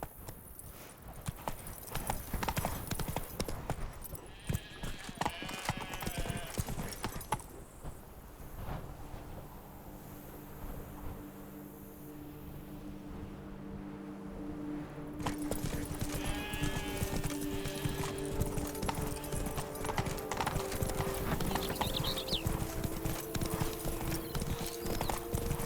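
Horse hooves clip-clop at a steady galloping rhythm in The Witcher 3: Wild Hunt – Blood and Wine, loud and continuous, briefly easing midway with a whinny before the hoofbeats pick back up.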